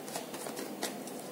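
Tarot cards being shuffled by hand, a quiet run of soft papery riffles and slides with a few sharper flicks, heard close up with no voices.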